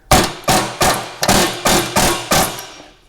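Seven loud metallic air hammer blows strike the center of a 2013 BMW X5 front control arm in a steady rhythm, each ringing briefly before the next, close by with no talking.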